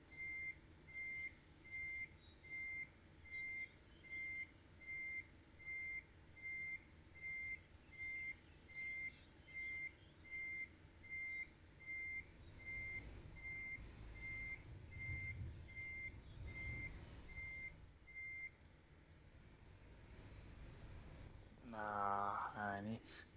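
A mining truck in a heavy-equipment construction simulator game sounds a steady run of reversing beeps, then its engine swells and rumbles as the sand load slides out, followed by a hiss of air brakes at the end.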